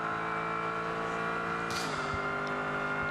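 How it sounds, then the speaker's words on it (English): The number 12 Lexus race car runs through Speedway Turn 2 onto the back straight at the Rolex 24 at Daytona, a steady engine whine in the background that shifts pitch partway through, with faint clicks. "the car you hear in the background is the number 12 Lexus, which is heading through Speedway Turn 2 and onto the back straights"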